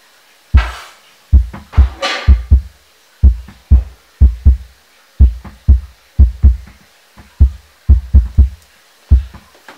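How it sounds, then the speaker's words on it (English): A punchy kick drum pattern, recorded with one mic and shaped by a transient shaper with boosted sustain, thumps steadily, deep and tight with a softened attack, repeating in a driving rhythm with no other instruments. "the kick drum was already kind of punchy"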